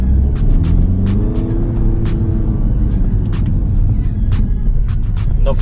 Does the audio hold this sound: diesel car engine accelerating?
yes